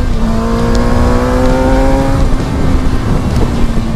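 A Suzuki GSX-R 750 sport motorcycle on a road ride drops through revs under braking, the engine note sliding downward before settling into a steady loud drone. Wind rush fills the background.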